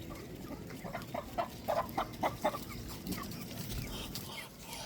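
Rhode Island chickens mixed with Bisaya stock clucking on a farm, a short run of rhythmic clucks rising over steady outdoor background noise, moderately close.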